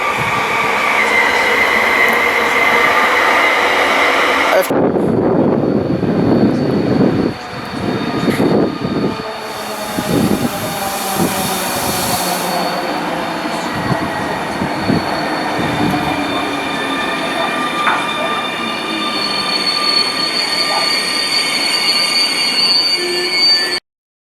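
Trains at Łowicz Główny railway station in Poland: a loud rolling rumble of passing cars with clattering wheels, a sharp jolt, then squealing wheels and a long fading roar.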